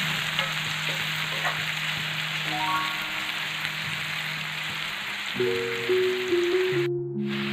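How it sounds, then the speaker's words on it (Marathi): Onion and tomato sautéing in a pan for a dried-shrimp curry, a constant frying hiss with light spatter, while a few tonal beeps or chimes sound over it near the end. "आपलं कांदा आणि टोमॅटो छान लाल रंगावरती परतून झालेला आहे"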